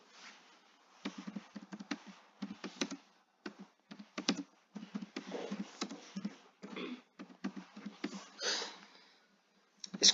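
Typing on a computer keyboard to fill in an online form: quiet, close clusters of rapid key clicks in irregular bursts separated by short pauses.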